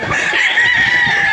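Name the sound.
battle stag roosters at a game farm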